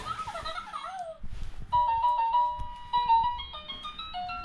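Electronic toy duck knocked into action by a puppy, bleeping briefly before launching into a tinny, chiming melody of steady notes, heard close with some scuffling underneath.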